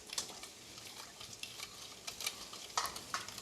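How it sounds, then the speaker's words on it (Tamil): A spoon stirs sugar into coconut milk for coconut milk paniyaram, giving soft scraping swishes with light metallic ticks, quiet and close, with no talking. "நல்லா கலக்கணும் ஜீனி கரையிற அளவுக்கு"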